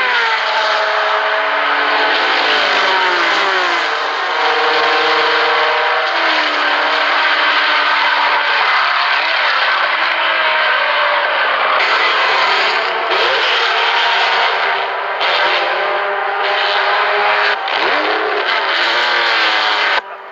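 Race car engines at the 1975 Le Mans 24 Hours, loud and continuous, with a high droning whine that climbs and shifts as cars rev and pass close by.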